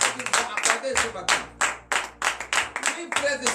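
Rhythmic clapping from a church congregation at a morning prayer service in Benin, a series of loud, close hand claps in a steady beat mixed with voices.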